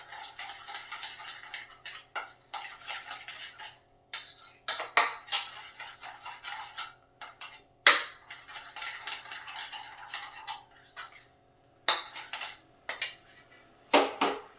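A spoon stirs yogurt in a cooking pot, giving intermittent metallic scrapes and clinks in short bursts with quiet gaps between them.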